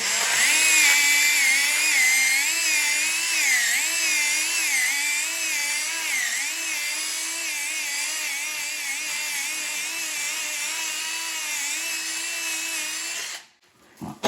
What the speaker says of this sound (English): fairly large cut across there with a little chainsaw